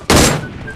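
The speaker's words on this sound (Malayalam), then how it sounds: "വെറുതെ വെടിവെക്കുന്നു." Gunfire in the BGMI mobile battle game, a short burst of loud shots in quick succession followed by a fading tail and another shot starting at the end.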